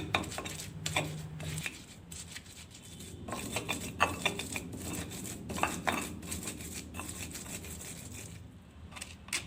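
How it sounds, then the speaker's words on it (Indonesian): Rhythmic knocking and scraping of a pestle grinding chilies and small dried shrimp in a stone mortar, steady close-up strokes repeating throughout with no talking. "Lalu saya ulek dulu hingga halus."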